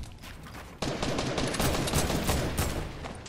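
Sustained automatic gunfire aimed at the player in a video game erupts suddenly and keeps up as a loud, continuous rattle of overlapping shots for the rest of the moment, with no voices over it.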